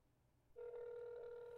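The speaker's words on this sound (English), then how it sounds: "That's dialing." A phone call placed on speakerphone: after a brief quiet moment, a steady electronic ringing tone starts and holds clearly, with no voices.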